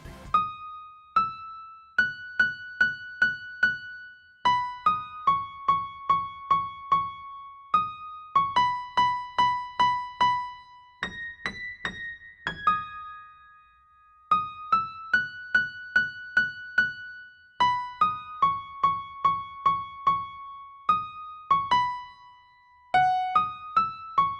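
A short bright synthesized Deltarune leitmotif plays in plucky repeated notes over a soft low pulse, phrases separated by brief pauses, clean and game-like with no voices.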